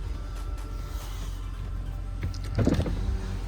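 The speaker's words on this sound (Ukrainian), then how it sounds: "Також можемо закрити шторку, якщо буде бажання." A soft electric motor whirs inside a quiet, double-glazed Audi Q5 50 TDI, ending with a brief mechanical clunk and rustle as the window sunshade finishes closing.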